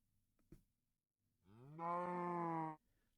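In Minecraft, a cow in a pen beside a horse gives one clear, sustained moo lasting just over a second. A soft click comes before it, and the setting is otherwise quiet.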